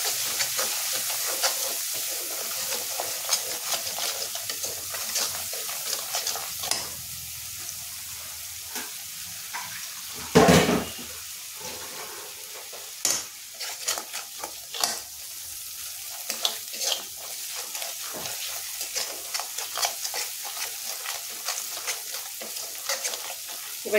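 Dry spices are stirred in a pan for Bengali fish curry, a low steady sizzle with frequent sharp scrapes and clinks of the spoon, including one loud knock midway.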